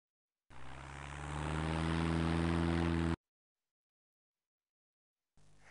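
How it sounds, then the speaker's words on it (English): A propeller airplane drones loudly in a children's English learning game, swelling over about three seconds and then cutting off sharply, followed by silence and a short burst of sound. "The plane can fly."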